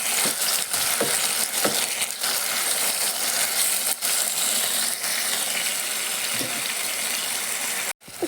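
Cut tomatoes added to onions in a hot pan set off a steady, loud sizzle and hiss of frying that continues throughout, with small clinks and pops and no talking.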